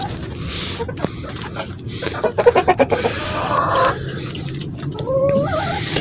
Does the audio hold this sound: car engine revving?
no